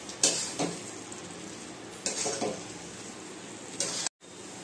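Dry chilli chicken sizzling in a hot pan with oil as it is stirred and mixed with salt, bursts of spatula scraping recurring about every two seconds over a steady frying hiss, close and moderately loud.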